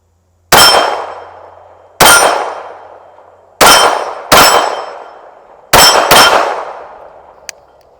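Walther PK380 pistol fired outdoors: six sharp, loud reports with ringing decays, spaced unevenly, two of them in quick pairs, plus a faint metallic tick near the end.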